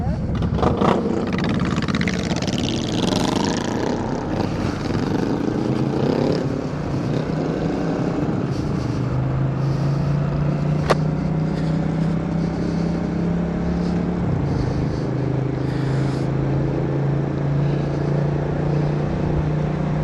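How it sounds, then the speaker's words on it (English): A car rolls slowly along a gravel road in fall weather, its steady low engine drone and road rumble continuous and fairly close throughout, with a rougher, noisier stretch early on before the tone settles. "Not super confident on a gravel road, so I'm gonna go at nice slow speed."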